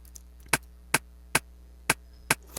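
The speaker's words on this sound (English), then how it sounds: "I have this rim shot sound that sounds like this" A rim shot drum sample for Afrobeats clicks five or six times at a steady, even pace, each hit short, sharp and close, with a faint low hum underneath.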